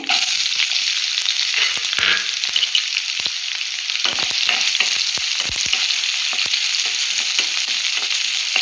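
Finely chopped onion sizzles in hot oil for rasam, a loud, close, constant hiss with light scraping and spoon taps.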